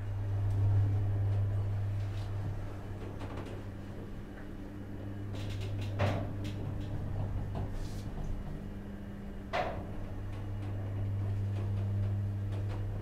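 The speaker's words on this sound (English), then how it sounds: "Lift going down." A talking Thyssen hydraulic elevator in a Marks & Spencer store in Nottingham descends with a steady low hum, joined by faint ticks and a couple of brief clunks, with no voices.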